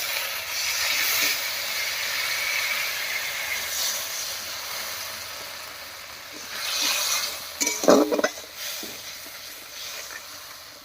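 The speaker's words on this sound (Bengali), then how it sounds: "এবারে মশলা বাটা জল দিয়ে খুব ভালো করে কষিয়ে নেব" Spiced masala paste for a katla fish curry with taro, loosened with water, hisses and sizzles in a hot pan in soft waves, with a brief burst of louder spluttering and stirring clatter near the end.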